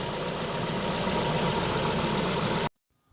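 A 2012 Ford Fusion with the 2.5 engine idles steadily and up close with a broadband rumble, then cuts off abruptly near the end, leaving near silence.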